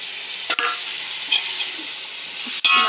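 Tomato and green chilli frying for biryani: a steady broadband sizzle with two sharp scraping stir strokes, close and alone, no talking.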